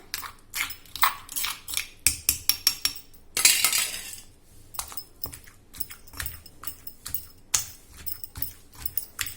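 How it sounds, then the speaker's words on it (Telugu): Tamarind chutney is pounded in a stone mortar, making sharp, irregular clacks and knocks in quick bursts, with a brief scraping rush partway through. "ఒక్కసారి దంచి ఒక గిన్నెలోకి అయితే తీసేసుకుంటాను"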